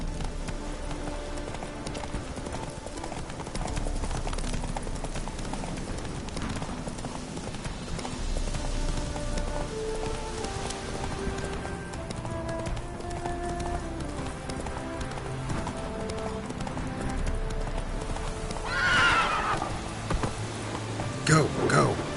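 A horse gallops steadily in The Witcher 3: Wild Hunt, hooves clip-clopping in a continuous rhythm over a busy game soundscape, with a rider's voice urging it on.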